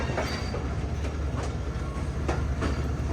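An express passenger train stands at platform 2 of a railway station, giving a steady loud low rumble with a faint clicking of rail wagons throughout and no voices.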